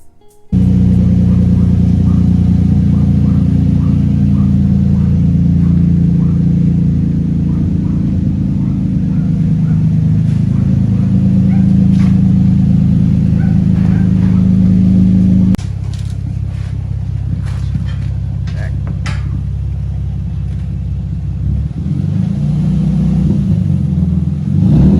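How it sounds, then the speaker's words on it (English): An Infiniti FX35 with catalytic converters cut off and straight-piped exhaust revs loudly and close, a deep steady rumble with rises in pitch, shifting in tone partway through, with no talk over it. "So now that we cut off the catalytic converters, we had to hear what this bad boy sounded like, straight piped."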